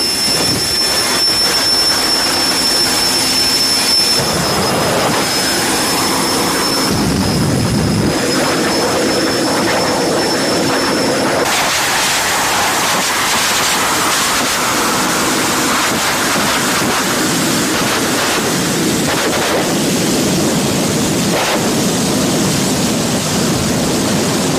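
Loud nitro drag racing engines roar and whine continuously, the tone shifting as the thrust changes, with a dense rushing noise throughout.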